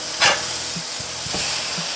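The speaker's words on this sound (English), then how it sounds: "I think these are ready to flip. Let's go ahead and flip them over." Burger patties hiss and sizzle in a hot pan, with a sharp scrape of the spatula as they are flipped and a couple of soft taps after, close and without talking.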